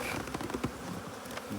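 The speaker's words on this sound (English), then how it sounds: "You see still a bunch of bees down in there." Caucasian honey bees buzz at an open hive, a dense, continuous close-up hum with no voices.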